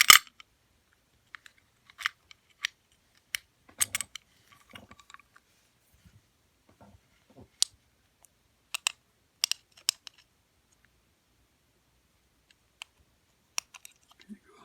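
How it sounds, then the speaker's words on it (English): An antique single-lever lock being worked by its key gives a scattering of sharp, isolated metallic clicks and taps, close and fairly quiet, with longer silent gaps between the mechanical movements. "that's what, when the key goes in"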